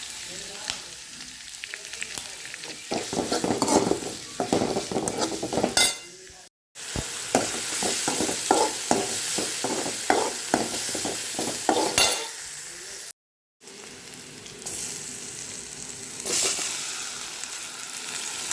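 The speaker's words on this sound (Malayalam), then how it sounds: "അരിഞ്ഞു വെച്ചിരിക്കുന്ന സവാള പച്ചമുളക് കറിവേപ്പില ഇത്രയും കൂടി ഇട്ടൊന്ന് വഴറ്റാം" Chopped onion, green chilli and curry leaves sauté in a pan for green peas masala, a steady sizzle with repeated spoon stirring and scraping, broken by two brief moments of silence.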